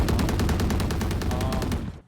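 Rapid automatic gunfire from a first-person shooter video game rattles off in one fast, steady burst of evenly spaced shots, loud and close, then cuts off abruptly.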